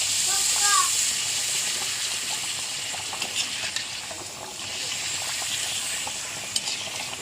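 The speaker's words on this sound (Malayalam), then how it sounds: "പപ്പടം വറുത്തെടുക്കാം." Papad frying in hot oil in a pan for a lunch meal, a continuous loud hiss with scattered crackles and pops throughout, and a voice briefly audible.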